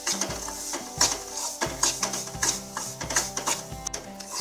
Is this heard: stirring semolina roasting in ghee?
yes